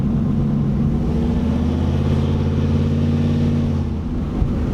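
Chevrolet Camaro Z28 engine accelerating smoothly after mechanic work, a loud close steady low drone with rising harmonic tone held throughout.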